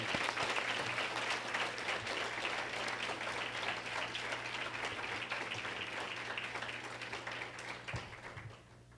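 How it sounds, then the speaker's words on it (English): At a teacher of the year banquet, an audience gives sustained, dense applause at moderate distance, with a low steady hum beneath it, tapering off in the final second. "Can we give a round of applause for all of our elementary and secondary teachers of the year?"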